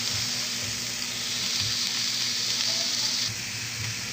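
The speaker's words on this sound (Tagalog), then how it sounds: "nagluluto po tayo idol ngayon ng ginisang ampalaya idol." Bitter gourd (ampalaya) sautéing in a pan gives a steady close sizzle and hiss of frying throughout, with faint stirring knocks and no talk.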